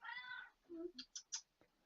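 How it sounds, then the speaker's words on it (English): A cat meows several times up close, starting with a long drawn-out cry and followed by a few short, sharp chirping mews in quick succession, alone with no talk. "Is that a cat?"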